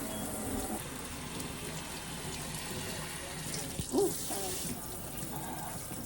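Water running steadily from a sink tap while hair is wetted, a continuous close splashing hiss with a brief clunk partway through.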